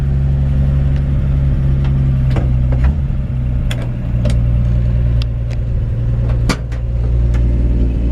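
A 1954 Chevrolet 5-window pickup truck rumbles as it backs up slowly, its still-warming engine idling a touch high with a loud, close, steady low drone and small shifts in pitch, with scattered clicks and knocks on top.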